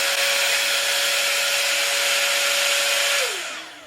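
A budget $30 hot air styler brush, a dupe of the Airwrap, blows with a loud, steady whooshing whine and a constant tone, then winds down as it switches off near the end.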